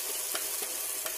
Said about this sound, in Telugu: ఆ పచ్చడిని ఈ పోపులో వేసేస్తాం.